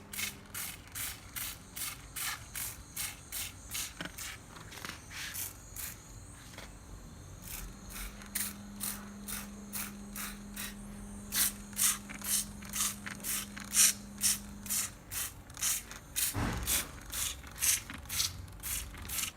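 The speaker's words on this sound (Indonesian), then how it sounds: "Kawan semprotkan ke akarnya yang ada di tanahnya." Repeated short spray bursts from a hand pump sprayer apply fertilizer mixed with water onto the roots and soil of a garden plant, a steady rhythmic series of close, hissing pulses with a faint hum in the background.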